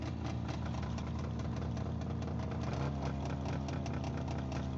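A motorbike engine in a Bangladeshi GTA-style video game idles steadily, a constant mid-pitched throbbing hum with a faint rattling knock and no pauses, heard alone.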